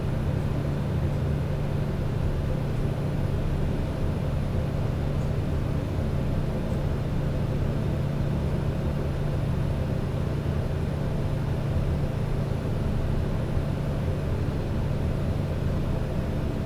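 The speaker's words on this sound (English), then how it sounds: "And you can hear like the engine is pretty silent inside" The Pilatus PC-12's turboprop engine, heard from inside the cabin in Microsoft Flight Simulator 2024, makes a constant, even drone with a low hum. It stays unchanged throughout, with no talking.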